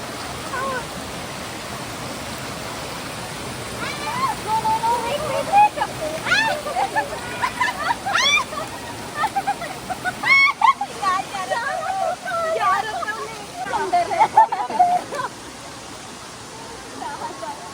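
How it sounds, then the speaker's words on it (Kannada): Jhari Falls near Chikmagalur pours as a steady wash of rushing water, while excited voices chatter and shout over it near the falls. "Best falls I have ever been at."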